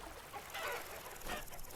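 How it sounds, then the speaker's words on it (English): Chickens clucking in the survival game Vintage Story, a few short bursts of soft clucks close by over a steady ambient background, with no talking. "Here's some more chickens"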